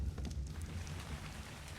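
Steady rainfall in the ARK: Primitive Plus video game, a soft continuous hiss and patter with a low rumbling undertone, even and unbroken with no voices.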